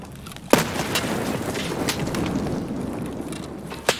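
Two sharp, heavy blasts from grenades thrown in the Escape from Tarkov shooter, one early and one near the end, set over a steady rumbling, noisy background.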